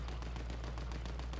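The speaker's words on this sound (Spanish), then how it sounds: "yo oigo disparos a tutiplén" Rapid automatic gunfire in Fortnite, a dense, continuous stream of shots with a steady rhythm and heavy low rumble, fairly loud throughout.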